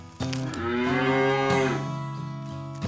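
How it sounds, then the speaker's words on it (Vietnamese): Farm cattle give a drawn-out moo that starts abruptly, swells and then fades, a single deep, close and loud call with nothing else over it. "Con bò."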